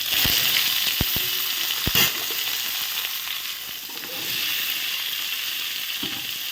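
Cut eggplant and potato fry with black cumin in a pan, giving a loud, steady sizzle with a few sharp clicks and scrapes from stirring.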